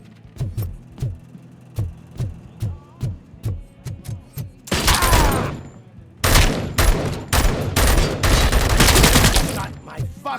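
Gunfire in the RoboCop: Rogue City game: a rhythmic series of separate heavy shots, then loud sustained bursts of rapid fire and impacts, close and punchy, with brief voices mixed in.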